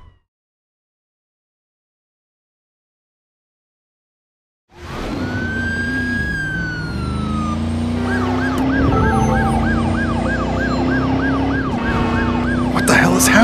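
An ambulance siren in the video game Driver: San Francisco starts abruptly after silence, a loud wailing tone that shifts into a rapid yelp pattern, over a running car engine and traffic.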